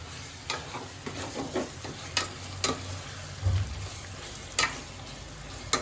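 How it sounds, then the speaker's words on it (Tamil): Tuna fish sukka fries in a pan with a steady sizzle while a spatula stirs it, scraping and tapping against the pan every second or so. "அடியில் பிடிச்சிடும், கிண்டிகிட்டே இருக்க வேண்டியது."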